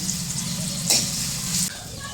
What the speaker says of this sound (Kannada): ಒಂದು 5 ನಿಮಿಷ ಇಷ್ಟೇ ಸಣ್ಣಗೆ ಇಟ್ಟು ಕುದಿಲಾಗ ಎಣ್ಣೆಯೊಳಗೆ ಫ್ರೈ ಆಗಲಿ